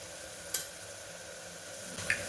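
Homemade black masala, red chilli powder and turmeric roast in a pan with a soft, even sizzle, broken by two brief stirring clicks.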